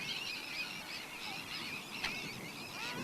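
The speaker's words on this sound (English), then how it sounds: "as you can see behind me, there's lots and lots of puffins and gulls" Seabirds, puffins and gulls, call continuously at a breeding colony on Inner Farne in the Farne Islands, a dense chorus of overlapping harsh cries at moderate distance with no talking.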